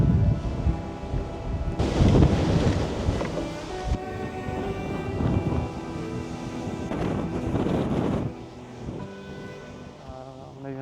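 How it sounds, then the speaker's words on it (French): Powerful wind gusts above 100 km/h batter a camper on the road, roaring against the microphone in heavy rumbling surges that rise, drop off and return, loud and close throughout. "Il y a vraiment un vent de fou."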